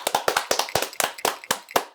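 Sparse, loud handclaps from a small group in a podcast studio, about a dozen sharp claps in a loose, uneven rhythm, close to the microphone with no talking.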